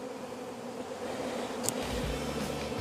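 Honeybees hum on hive frames during a hive split for swarm control, a dense continuous buzz close by with a few brief louder passes of individual bees, no talking.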